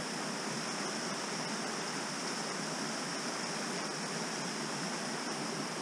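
Water rushes steadily down a rocky gorge in the Peak District woodlands, a dense, unbroken hiss and roar that stays loud and close for the whole stretch with no voices over it.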